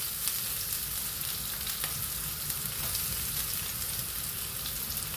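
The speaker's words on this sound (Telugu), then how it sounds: "ఉల్లిపాయలు వేస్తాను." Onions sizzle and fry steadily in hot oil for a North Indian Maharashtra-style chicken curry, a dense, continuous crackle close to the pan with no talking.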